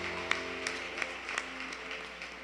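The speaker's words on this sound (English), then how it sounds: "Let's give her a great big round of applause." Audience applause for a speaker at a speech contest, sparse, faint clapping with a few distinct hand claps over a quiet, humming room.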